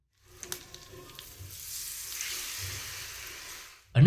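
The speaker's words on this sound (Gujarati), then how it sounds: "હવે વઘારને બેટરમાં ઉમેરી દઈએ" Hot oil tempering of mustard seeds, white sesame and curry leaves poured into handvo batter gives a steady soft sizzle lasting a few seconds, with a few small clinks at the start and a sharp thud at the end.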